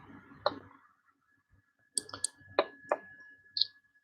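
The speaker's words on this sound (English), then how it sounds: "I can't hear anything apart from you clicking." Sharp, dry clicks sound close in an otherwise quiet room, several spaced irregularly over a few seconds with brief gaps of near silence between them.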